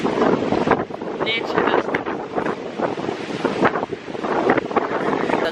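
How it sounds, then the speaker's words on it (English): Strong wind gusts over open water on a Jamaican shore, buffeting close and loud with a rough, uneven roar, while a person speaks a few words over it. "The wind."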